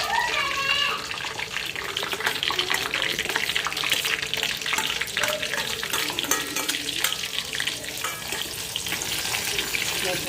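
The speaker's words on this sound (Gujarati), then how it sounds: "જીરું થોડું થઈ જાય પછી એની અંદર હું નાખીશ સમારેલું લસણ." Chopped garlic and cumin fry in a pan with a steady, dense sizzle and crackle, stirred now and then with scraping taps, close and continuous throughout.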